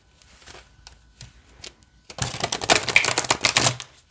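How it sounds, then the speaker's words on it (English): A deck of cards riffle-shuffled: a dense, crackling burst of rapid card flutters lasting under two seconds, preceded by a few soft handling taps. "So if you do happen to shuffle like I'm about to do"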